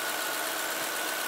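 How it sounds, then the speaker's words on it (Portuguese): A GM Agile 1.4 car engine idling after routine maintenance, a steady, even mechanical hum with a faint high whine running through it, close and unchanging, with no voices. "Finalizando, motor já em funcionamento,"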